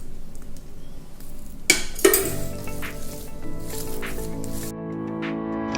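Dhapate, a Khandeshi Marathi flatbread, frying in oil in a pan. Two sharp clatters of utensils against the pan are followed by a steady close sizzle that cuts off near the end, leaving a lingering hum.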